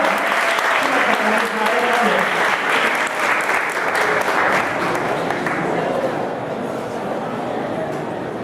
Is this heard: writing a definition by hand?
no